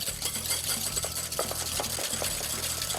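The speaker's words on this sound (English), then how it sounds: "Now give that a really nice whisk." Two egg yolks whisked in a bowl, a quick, steady run of close, rhythmic scraping and ticking that keeps going with no pauses and no voices.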